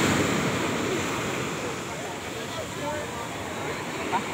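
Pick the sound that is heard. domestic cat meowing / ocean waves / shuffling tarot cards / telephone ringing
ocean waves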